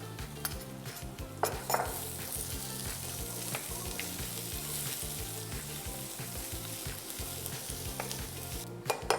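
Finely chopped onion frying in a pan for Schezwan veg fried rice, a constant close sizzle with regular scraping stirs and occasional utensil clinks against the pan, no voices.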